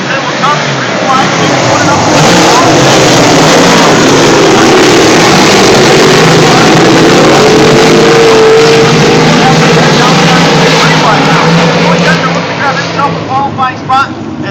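Race cars roar down the home stretch at Utica-Rome Speedway during the New Yorker 200, a loud, continuous engine drone with a race announcer calling over it.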